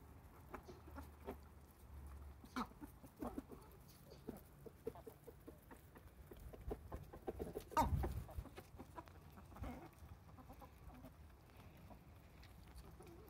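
Chickens cluck softly and scattered at feeding time, faint and somewhat distant, with intermittent rustling and a louder thump near the middle.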